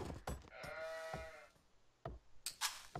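Sheep in the video game Age of Empires 2 give one drawn-out, wavering bleat, set between a few short clicks and taps from the game.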